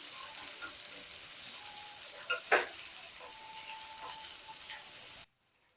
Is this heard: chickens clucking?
no